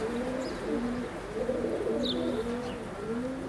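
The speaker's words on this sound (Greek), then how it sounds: "Αυτά είναι τα πουλάκια του Βάλα" White racing pigeons coo in a steady series of low, throaty calls, with faint chirps above and a constant outdoor ambience in a town setting.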